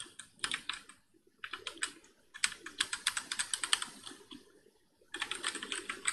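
Rapid bursts of computer keyboard typing, close and crisp, in uneven clusters of sharp key clicks separated by short pauses, no voices.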